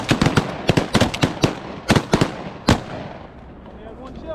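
Shotguns fire over water during a Kansas goose hunt, a rapid volley of loud, overlapping blasts from several guns that trails off into echo and quiet.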